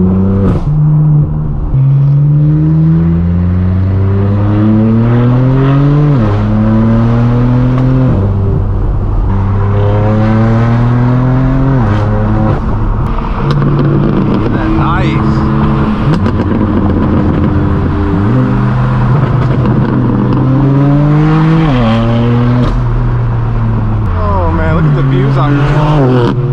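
A straight-piped BMW M4 F82 with a crackle map drives through the Malibu canyons, its loud exhaust rising through repeated gear pulls and dropping on shifts, with rasping pops and crackles on lift-off.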